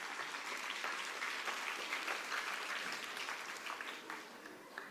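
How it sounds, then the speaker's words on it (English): Parents at a school event in a hall give a sustained round of applause for performing children, many hands clapping evenly for several seconds, soft and somewhat distant. "Let's give a big round of applause for the lovely kids."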